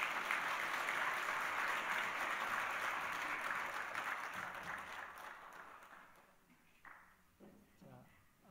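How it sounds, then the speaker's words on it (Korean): A church congregation claps loudly and steadily during a Sunday service, a dense sustained applause that gradually fades out, with a few voices and thumps audible as it dies down. "우리 큰 박수로 축하하겠습니다."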